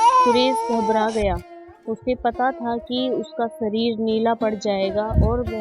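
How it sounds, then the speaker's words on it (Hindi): A baby cries loudly in wailing, tonal bursts while a narrator keeps speaking over it. "उनके कानों में बच्चे के रोने की आवाज़ आई।"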